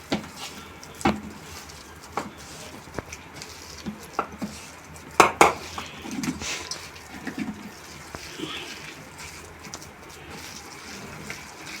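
Urad dal batter is beaten by hand in a bowl, producing irregular scraping and tapping with sharp utensil clinks against the bowl at close range and a quiet kitchen background.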